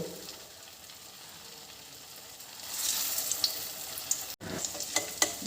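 Cornflour-coated paneer pieces fry in hot oil, a close steady sizzle that swells into brighter crackling bursts with a few sharp pops near the end.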